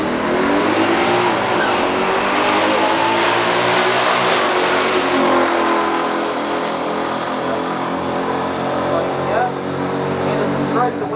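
Two 1969 Camaros, an all-aluminum ZL1 427 and a Yenko Camaro 427 with turbo 400 transmission, drag racing in a pure stock class, loud sustained engine roar with layered revving pitches, close and continuous, with a commentator talking underneath.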